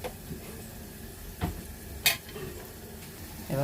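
Onion masala with fresh coriander stirred and frying in a pan for a dry Bombay duck curry: a steady low sizzle with a few soft scraping stirs and a sharp clink of the spoon partway through, close and fairly quiet.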